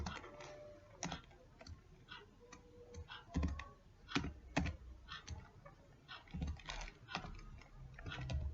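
Typing on a computer keyboard to enter a command, a quiet run of close, irregular key clicks and taps with brief pauses, no talk.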